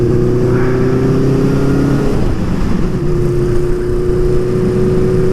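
A Honda CB550 Four motorcycle engine runs loudly and steadily up close while riding, with a strong low drone whose pitch drops as a gear is changed about two seconds in, then continues.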